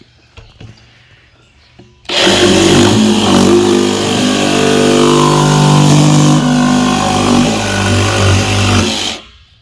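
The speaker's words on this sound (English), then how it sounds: "be careful that your jigsaw doesn't bend the blade, bounce around" Jigsaw cutting a cheap plastic barrel for a raised bed, a loud, continuous rasping motor buzz that starts suddenly and runs for about seven seconds before stopping.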